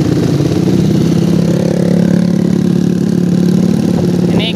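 Motorcycle engine fitted with a tuned PWK carburetor, ridden slowly at steady low throttle; a continuous, even mid-pitched drone with a smooth throb and no stumbling, loud and close throughout.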